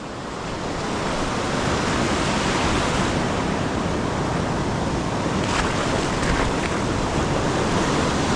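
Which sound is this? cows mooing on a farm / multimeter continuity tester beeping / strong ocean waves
strong ocean waves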